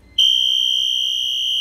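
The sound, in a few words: fire alarm bell going off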